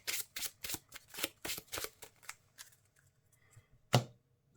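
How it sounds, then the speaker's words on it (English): A deck of game cards riffled and bridged in a quick rhythmic run of crisp ruffles, close and alone, ending with a single sharp tap as the deck is squared. "And shuffle these into a thin deck."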